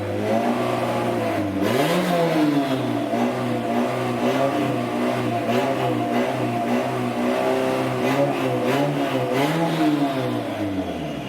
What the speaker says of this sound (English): So I started revving the shit out of it like I am right now.